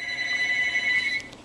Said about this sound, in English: I hate it when I'm making a video and the phone starts ringing.